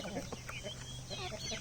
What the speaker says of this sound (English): It's like a swarm of chickens.